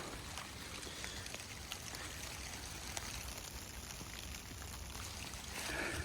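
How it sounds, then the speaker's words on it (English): Rain falling steadily in the woods, a soft, even hiss of drops on leaves and ground that carries on unbroken throughout, fairly quiet and with no voices over it. "I don't know if y'all can hear the rain"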